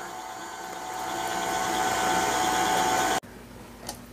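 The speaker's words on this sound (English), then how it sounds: "I'm going to turn the camera off while it whisks because it can be loud" Electric mixer whisking lemon pie filling on low, a steady loud whirring hum that builds slightly before cutting off abruptly, leaving quiet room noise.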